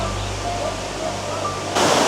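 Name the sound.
water rolling down small dammed creek waterfall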